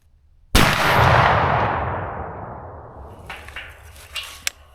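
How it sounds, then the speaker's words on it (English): A single muzzleloader rifle shot cracks out sharply while sighting in on public land, followed by a long rolling echo that fades over several seconds, with faint rustling afterward. "Here's going to be the second shot."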